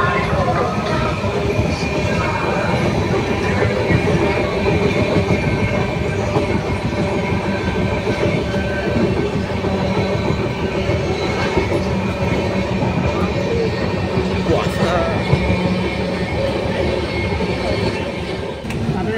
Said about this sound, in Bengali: ঘন কুয়াশার মধ্যে দিয়ে আমাদের ট্রেন ছুটে চলল পুরীর উদ্দেশ্যে